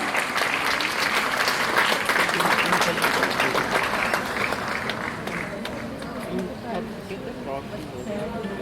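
Sustained audience applause fills a hall at a school's annual prize distribution ceremony, loud and steady for several seconds before easing slightly, with a few voices mixed into the clapping.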